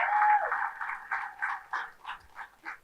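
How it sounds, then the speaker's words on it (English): A press conference audience, gathered for the sanctioning of Ohio high school girls' flag football, gives a short burst of applause that thins into scattered, fading clapping, thin and muffled in tone. "So we can give the Hall of Fame folks a round of applause."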